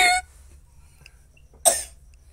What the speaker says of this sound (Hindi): खांसी आउ थी